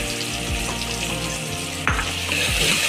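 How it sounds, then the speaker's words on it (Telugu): Onions salted in hot oil fry with a steady, close sizzle for a Hyderabadi mutton curry, with faint clinks of a spoon against the pan and no voices. "ఇంకా సాల్ట్ వేస్తే తొందరగా ఉల్లిపాయలు వేగుతాయండి"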